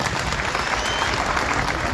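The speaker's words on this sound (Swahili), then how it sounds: "Maureen makofi." An audience at a gathering with an MC claps loudly and continuously, a dense, close wash of applause that holds steady throughout.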